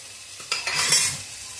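Boiled chana dal, cooked soft in a pressure cooker, drops into a hot pan and gets stirred, giving a short sizzle and scraping burst that swells mid-clip and then settles, close and with no talking.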